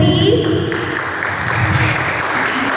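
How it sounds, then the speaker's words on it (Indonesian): Loud applause fills a Sunday school Easter service at HKBP Citra Raya church as a first-place winner is announced, steady clapping with voices mixed in. "Yeay, tepuk tangan dulu dong"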